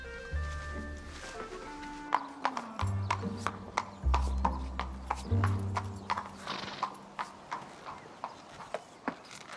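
A horse walks with steady, clear hoof clip-clops on a hard surface, close by, and a brief whinny, over a layer of music.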